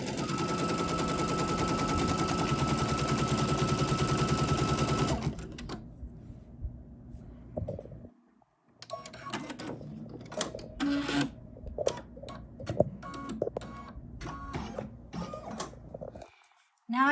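An embroidery machine stitches a Kimberbell Pumpkins & Potions flying geese quilt block, a rapid, steady mechanical rattle for about five seconds that then stops, followed by quieter clicks and handling noises.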